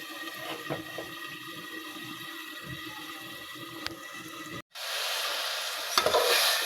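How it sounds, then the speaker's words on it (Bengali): Sweet and sour olive pickle being stirred in a pan: a continuous bubbling sizzle with soft scraping, then a brief gap before a louder, brighter hiss resumes. "ভালোভাবে নাড়িয়ে নেবো যাতে তলায় লেগে না যায়"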